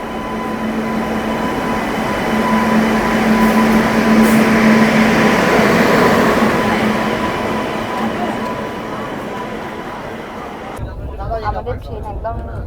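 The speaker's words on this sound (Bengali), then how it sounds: "আমাদের ট্রেন একদম 2 মিনিটের হল্ট ছিল আমাদের নৈহাটিতে থেকে ছেড়ে দিয়েছে।" A train pulling out of Naihati station after a two-minute halt, with a continuous rumble and clatter that swells mid-way and then eases, while a voice speaks briefly near the end.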